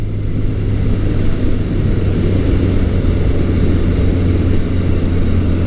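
A Yamaha XS1100 classic musclebike engine runs with a steady, loud low drone and a strong, even hum that holds the whole time, with no speech over it.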